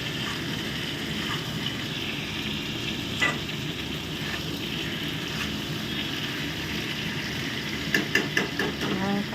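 Vegetables fry in a pan for a Bengali shukto dish, giving a steady loud sizzle throughout with occasional stirring clatter and a few sharper scrapes near the end.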